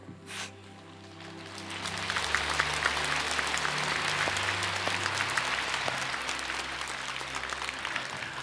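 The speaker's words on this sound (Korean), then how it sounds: "하나님께 다시 한번 영광의 박수 올리겠습니다" A church congregation breaks into sustained applause after a closing prayer, the clapping swelling after a brief quiet start and continuing loud and dense throughout.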